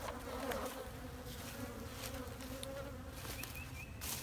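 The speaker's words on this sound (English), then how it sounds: "Bees getting a little aggravated." A dense, steady buzzing of many honeybees, close and continuous, with an agitated, droning hum and no voices.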